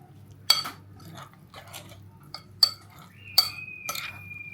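A utensil clinks and scrapes against a bowl while ingredients with salt are mixed for tortang talong with ground meat, several sharp knocks spaced about a second apart over a quiet background, close by, with a faint ringing tone near the end.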